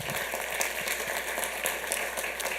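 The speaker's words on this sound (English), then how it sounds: "we also give her a round of applause" An audience at a Santa Ana city council meeting applauds, a brief, dense burst of steady clapping from many hands filling the room.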